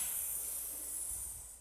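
A child gives one long, breathy hiss in imitation of a cat. It is fairly quiet and trails off at the end.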